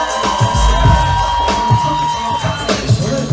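Wedding guests at a reception cheer, whoop and clap loudly as a crowd, a dense roar of voices and yells over music.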